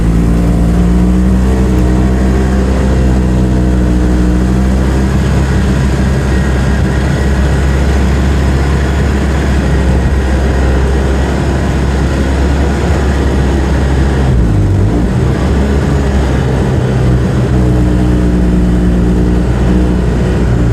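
A car drives steadily over snowy ground, its engine hum and road rumble loud and continuous throughout, with a brief dip in the engine note near the end and no talking.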